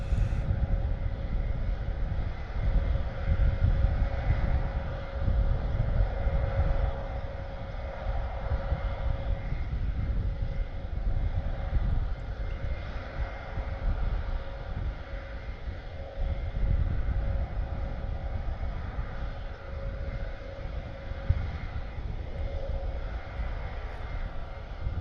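Engines of an RAF Airbus A400M transport plane run steadily at Benbecula, a continuous broadband roar with a faint tonal hum, moderately loud and unbroken throughout, with wind noise on the microphone and no talk.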